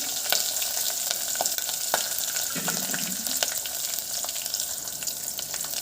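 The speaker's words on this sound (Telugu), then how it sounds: "తర్వాత ఉల్లిగడ్డలు పచ్చిమిర్చి ఈ రెండు వేసేస్తున్నానండి" Sliced onions and green chillies frying in a pan on the stove, a steady close sizzle with occasional spoon scrapes and clicks from stirring.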